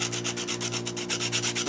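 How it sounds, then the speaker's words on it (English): A round sanding block rubs back and forth over the wooden body of a pinewood derby car, making rapid, even rasping strokes close up, with no voices. "we take a round sanding block and"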